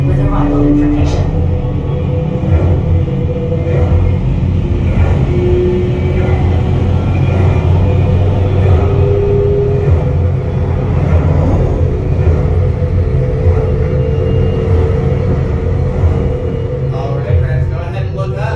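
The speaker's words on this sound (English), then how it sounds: "You're riding aboard the Mark V Stellarator, the latest in space elevator design and technology." Steady low rumble of the Mark V Stellarator, a simulated space elevator at the Space 220 restaurant, droning evenly and continuously throughout with faint higher tones drifting over it and no pauses.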